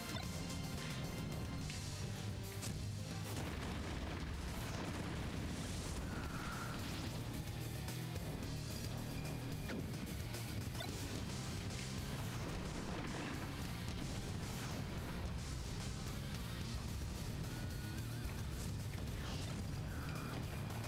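Mortar shells exploding in Super Smash Bros. Brawl, a dense continuous rumble of crashes and thuds with steady game music and effects throughout, no clear gaps.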